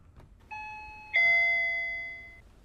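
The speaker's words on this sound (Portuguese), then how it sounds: "Ah não, é campainha." A doorbell rings indoors: a short electronic chime tone followed by a second, louder sustained tone that slowly fades, alone in a quiet room.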